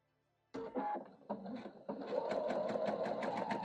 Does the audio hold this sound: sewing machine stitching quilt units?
yes